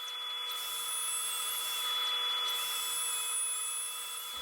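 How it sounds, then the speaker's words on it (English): A router mounted on a shop-built sled cuts across a live edge wood slab to flatten it, giving a steady high-pitched whine that swells in two long passes and carries no talk. "here is a demo look at how this router sled will work"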